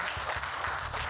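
Audience clapping steadily through a college reunion gathering to welcome a chemistry teacher onto the stage, a dense, continuous patter of many hands with no voices over it.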